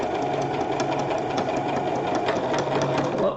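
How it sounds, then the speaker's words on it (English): A sewing machine stitches an embroidered rope bowl, running fast and continuously with a dense mechanical chatter, close and loud throughout. "Stupid sewing machine."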